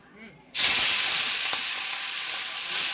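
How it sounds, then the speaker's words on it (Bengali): After a brief quiet moment, a loud, steady sizzle of prawns frying in a hot pan bursts in and keeps hissing strongly until the end. "এবার চিংড়িটা ভেজে নেবো"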